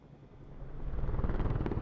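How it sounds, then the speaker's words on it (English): Helicopters in The Last of Us growing louder over a couple of seconds, a deep rhythmic rotor thumping that builds from a low rumble into a loud, close beating. "Helicopters? Oh my gosh, that's terrifying. That's so loud."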